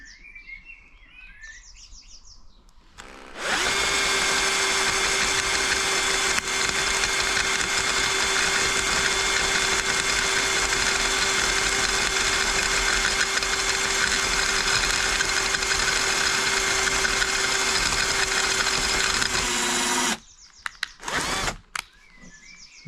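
A power drill whines at a steady high pitch for about sixteen seconds drilling a pilot hole in a fibreglass car bumper, starting and stopping abruptly, with brief bursts of drilling at the end.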